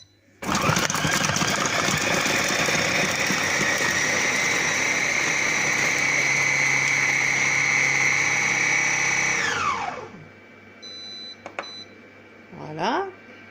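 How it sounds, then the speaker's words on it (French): A Compact Cook Elite multicooker chopping at speed 6 with its four-blade knife, a loud steady whirring motor whine that holds for about nine seconds and then winds down, followed by a few faint beeps and clicks. "Donc je vais hacher, donc je clique sur hacher."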